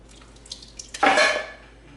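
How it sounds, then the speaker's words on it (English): A 28-ounce can of whole peeled tomatoes poured into a pot while lamb shanks are braised. A brief wet, thick slosh and splash swells and fades after a few light clinks of metal, close by. "we can add a 28-ounce can of whole peeled tomatoes. So I'm gonna pour that in."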